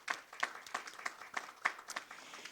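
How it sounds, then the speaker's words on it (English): At a school board meeting a small group claps for an accomplishment, sparse, separate hand claps with a loose rhythm, fairly faint and without talk. "So let's give them a nice round of applause."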